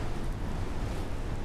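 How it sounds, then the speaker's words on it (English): Wind blowing across a volcano summit in the adventure game Amerzone, a steady rushing, noisy roar with no breaks and nobody speaking. "Windy up here."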